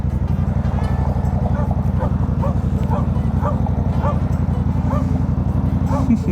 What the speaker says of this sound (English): Dogs are barking at me.